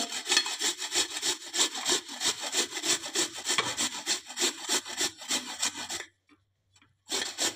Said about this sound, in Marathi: आता आपण किसणीने किसून घेऊया।